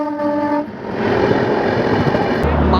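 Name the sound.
train horn as the train enters Haridwar station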